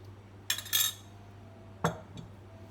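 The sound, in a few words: stirring and folding muffin batter in a bowl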